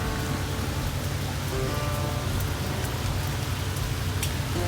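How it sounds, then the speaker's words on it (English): Heavy storm rain pours down in a constant, dense hiss, with a low rumble beneath and no voices. "Just pouring it down. We're in the middle of a storm."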